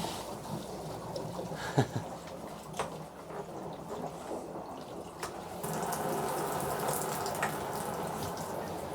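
Steady rushing water flows continuously out of a spigot, with a broadband hiss that grows slightly louder halfway through, plus a few faint clicks and knocks nearby.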